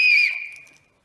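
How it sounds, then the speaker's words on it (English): A single loud, shrill whistle blast rings out up close and fades within about a second, heard alone. "we decide together if the whistle makes a loud sound"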